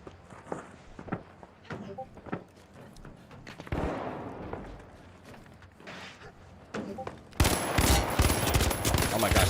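Scattered gunshots in the game The Finals during a 1v1 tournament match, sharp isolated cracks and footsteps building to a loud sustained burst of rapid fire near the end, with commentary voices underneath.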